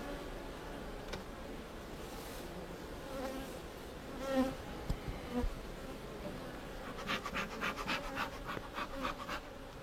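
Honeybees hum in a continuous, fairly soft drone from an open beehive, with a few louder buzzes passing close by.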